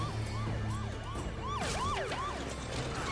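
Repeated rising-and-falling police car sirens wail from an animated Lego Ninjago chase scene, several overlapping cycles sweeping steadily over a low rumble of traffic and music, loud and continuous with no talk.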